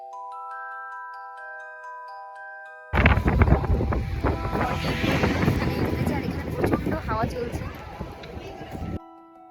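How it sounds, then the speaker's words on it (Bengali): Loud, blustery wind roars into the microphone at Sonmarg after a quieter opening with soft music, buffeting in gusts before cutting off near the end. "ভীষণ পরিমাণে ঝড়ো হাওয়া বওয়ার কারণে আমি ভয়েস ওভার করছি এখন"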